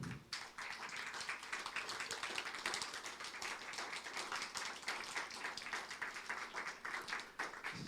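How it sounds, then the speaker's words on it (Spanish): Church congregation applauding the Lord during a Spanish-language sermon, dense steady clapping that fills the whole stretch at moderate level, with no talk over it. "dale un fuerte aplauso al Señor."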